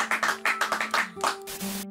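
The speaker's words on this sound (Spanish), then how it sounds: "Así que vamos a darle un aplauso a Nagadita." A few people clap together in a short, uneven burst of sharp hand claps, close by, with a steady tone and some background noise underneath.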